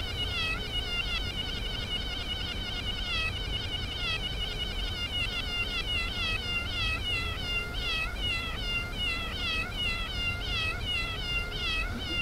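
A cat meows over and over in quick, close succession, with a steady stream of calls for about twelve seconds and no talking.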